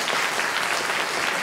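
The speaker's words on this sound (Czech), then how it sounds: "tak mu ještě zatleskejte jednou" Close, loud burst of audience clapping at the Pardubický kraťas 2024 award ceremony, a dense, even patter of many hands over a short stretch.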